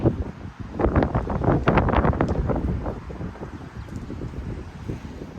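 Strong wind blows steadily outdoors beside a house, a dense, gusty rush buffeting the microphone for several seconds, loudest early and then easing slightly, with no voices.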